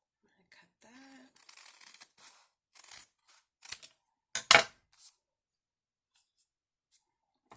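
Scissors snip through glitter cardstock, a 6x6 sheet, in several short, close cuts with quiet gaps between them, and a brief voice sound near the start.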